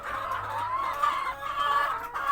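Laying hens clucking up close as they eat fermented feed, a busy run of overlapping murmuring clucks and short calls from several birds.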